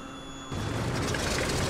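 A Douglas DC-3 piston engine in Microsoft Flight Simulator 2020 starts: a steady low drone kicks in after a quiet start and holds at a constant, loud level, with no talking.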